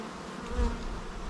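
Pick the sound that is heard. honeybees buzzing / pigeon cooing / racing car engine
honeybees buzzing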